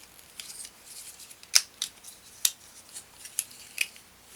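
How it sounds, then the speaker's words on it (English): Plastic Transformers Power of the Primes Dinobot Swoop toy parts folded and snapped into place, giving sharp close clicks and ratchety snaps spaced irregularly in a quiet room. "you just flip his legs around like so, fold his wings in like this, and his headpiece like so"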